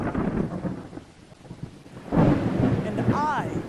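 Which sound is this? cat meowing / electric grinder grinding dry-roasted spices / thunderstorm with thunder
thunderstorm with thunder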